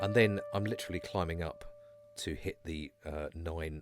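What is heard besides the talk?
No distinct noise like a dog, phone or traffic.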